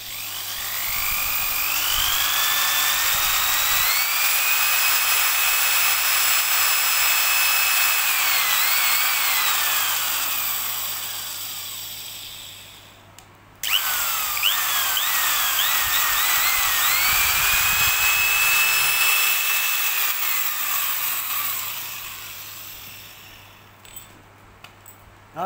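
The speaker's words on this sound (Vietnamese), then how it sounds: "Khoan gốc Makita," A Makita power drill runs at speed for about twelve seconds with a whining pitch that rises and wavers under the trigger, stops, then spins up again in reverse for another long run before winding down, close and alone.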